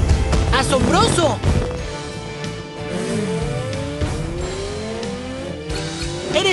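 Engine whine rising and falling as a motorbike speeds along in a PAW Patrol Moto Pups game, with playful game sound effects and a voice talking over it.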